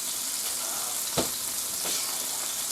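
Scallops sizzle and fry steadily in a hot pan, a dense continuous crackle with a couple of brief louder pops partway through, no voices.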